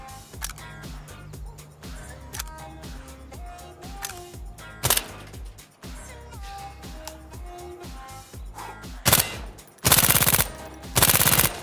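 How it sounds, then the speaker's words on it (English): An AS Val rifle fires in Insurgency Sandstorm in short bursts of suppressed shots, loud and close, mixed with mechanical clicks of handling the weapon and a game's background music. "The next one here is the AS Val."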